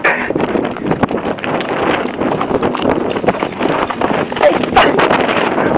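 An untamed horse being led to a taming course clip-clops steadily. The hoofbeats sound close and uneven, with wind buffeting the microphone and voices faintly in the background.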